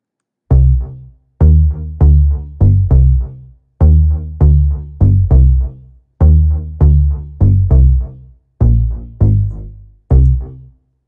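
A deep, punchy synth bass line in West Coast club style plays alone in short repeated notes with gaps, forming a steady bouncing club groove.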